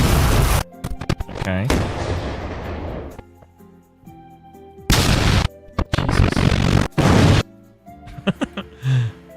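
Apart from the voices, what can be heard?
explosion sound effect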